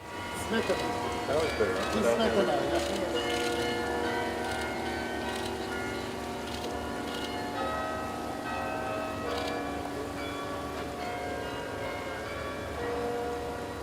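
The bells of the Cathedral of Our Lady ring out Hatikva as a slow melody, their tones overlapping and sustaining, with a broad reverberant wash beneath them.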